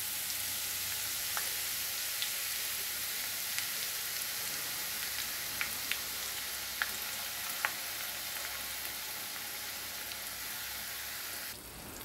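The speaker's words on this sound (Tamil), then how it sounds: "எண்ணெய்க்குள்ளார நல்லா துருவுன நெல்லிக்காய் வந்து பொரிஞ்சிட்ருக்கு" Grated amla, Indian gooseberry, fries in hot oil for a homemade hair oil, giving a steady soft crackling sizzle throughout with a few sharp pops standing out above it, fairly close and without talk.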